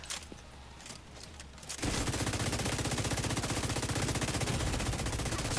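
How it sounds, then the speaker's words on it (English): Sustained rapid automatic gunfire from a video game turret firing at an enemy, starting abruptly after a quieter stretch and continuing loud and steady to the end. "Turret, you're not aiming at the proper target. I need you to shoot this guy."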